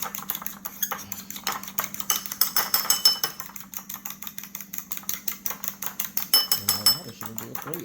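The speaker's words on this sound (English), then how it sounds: "Scramble that a little bit." A fork whisks eggs in a bowl, giving a fast, steady run of light clinking taps against the bowl's side, with a faint hum in the background.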